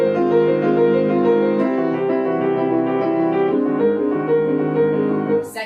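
Piano playing a flying theme, a steady flowing melodic line over sustained harmony, close and continuous with no talking.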